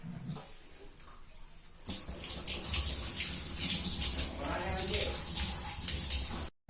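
Tap water gushes loudly into a sink while a money plant with its roots is rinsed, beginning after a quieter moment and running steadily for several seconds before stopping abruptly.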